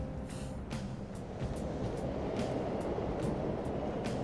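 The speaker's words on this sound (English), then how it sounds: "The trains are totally running!" A subway train rumbles steadily in a video game, a dense low roar with a regular clack of wheels over rail joints, heard alone without voices.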